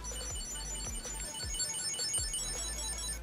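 A Bluetooth item tracker rings on voice command with a series of bright, repeating electronic chirps in a steady rhythm, close and clear, with no one speaking.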